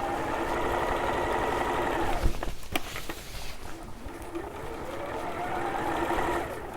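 A sewing machine runs steadily while stitching a green William Morris–style quilt, its motor whirring close and continuous, briefly dipping midway before picking back up.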